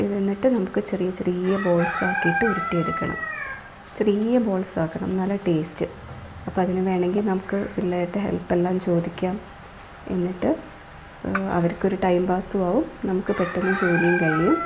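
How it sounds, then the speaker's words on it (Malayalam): A rooster crows from a neighbouring house around six in the morning in a Kerala home, rising briefly near the start and again at the end while someone talks steadily over it. "അപ്പോൾ ഉള്ള കോഴിയുടെ കൂവലാണ്."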